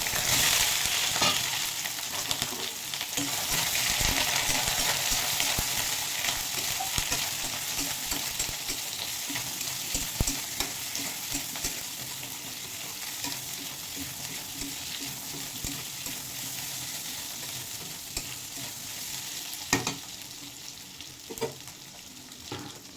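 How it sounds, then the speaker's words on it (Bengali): Mixed vegetables fry with ginger paste in a pan for a vegetarian dish, a dense, continuous sizzle broken by scraping stirs and occasional clatters, close and fairly loud, with no speech. "সবজিটা ঢেকে একটু ভেজে রাখবো"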